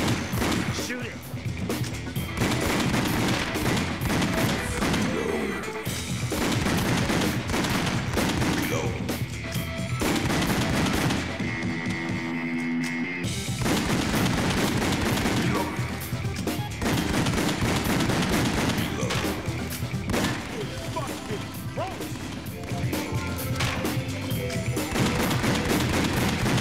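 Gunshots in House of the Dead: Overkill on the Wii, dense and nearly continuous shots mixed with game music, effects and dialogue, loud throughout with one brief quieter gap.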